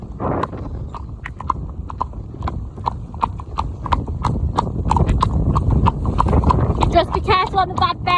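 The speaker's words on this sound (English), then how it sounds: "Shall we have a little trot, Kyle?" Shod horses clip-clop at a trot along a country road, a steady rhythm of close, crisp hoof strikes with a rider speaking over them and a brief whinny-like sound near the end.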